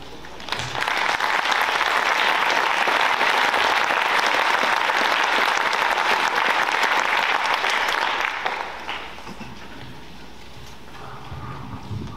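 A concert audience at a band and choir holiday performance applauds to welcome a soloist to the stage, a dense, steady roar of clapping that holds for about eight seconds before fading into quieter room noise.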